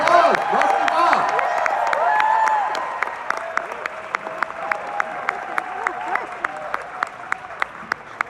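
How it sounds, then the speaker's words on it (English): A crowd at a Wonka panel at a chocolate expo applauds Rusty Goff, a steady wash of clapping with voices and cheers, then thinning into a few sharp, spaced claps close by. "Big round of applause. Rusty Bob."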